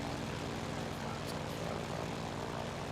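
Propeller airplane engine droning steadily in flight within a flight simulator game, a continuous, even hum with a low tonal buzz and no voices.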